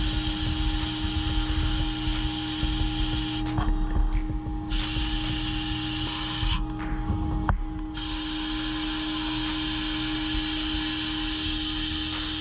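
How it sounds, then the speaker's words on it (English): Soda blasting strips a Keihin CDK2 carburetor with a loud continuous hiss of air and media, broken by two brief interruptions where the spray stops, then resumes steadily. "we're going to soda blast it first"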